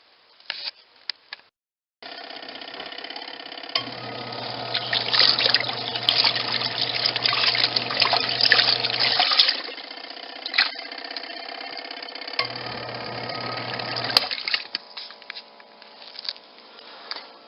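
A washing machine churns clothes in detergent, giving a steady sloshing, splashing wash with a low motor hum that comes and goes, close and fairly loud, with no talking.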